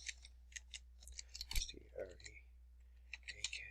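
Quiet, quick clicks of typing on a computer keyboard come in short bursts over a low background hum, with a person speaking in between.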